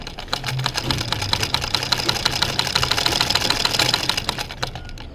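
A sewing machine runs continuously while stitching the side seam of a kameez, a close, steady rapid stitching rhythm with mechanical knocking throughout.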